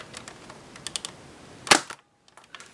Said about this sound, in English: Let's put in a different race squad dart and fire it through